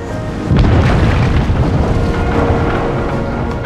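A dam-removal explosive blast goes off with a deep booming thunder-like roar that starts abruptly and rumbles on loudly without fading.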